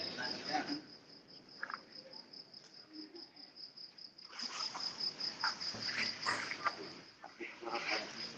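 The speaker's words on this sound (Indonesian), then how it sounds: "Pak Agnes seueur sora jangkrik" Crickets chirping in a steady, rapid high trill throughout, with a few muffled voices and faint noises underneath during a recorded online meeting.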